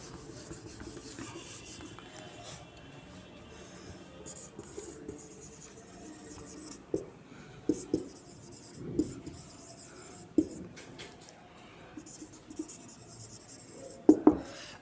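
A pen writes an example out by hand, making soft scratchy strokes and a few sharper taps in the second half, close and quiet, with a steady background hiss and no audible talk.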